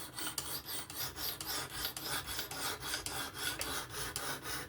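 A Kizer October folding knife is sharpened on a Work Sharp Professional Adjust with a coarse first grit, producing a close, rhythmic rasping as the blade is drawn across the stone in quick, even strokes.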